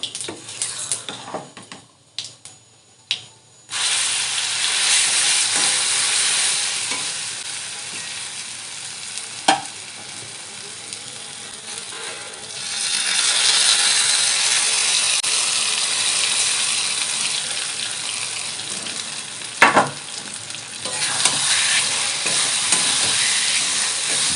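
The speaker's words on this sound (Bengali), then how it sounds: "হালকা আঁচে এটাকে করতে হবে, জোরে দিলে নিচে লেগে যাবে, আর অনবরত নাড়তে হবে।" Semolina and potato snack being stirred in a pan over low heat, a steady soft sizzle with intermittent scraping clicks of the spoon against the pan, no voices.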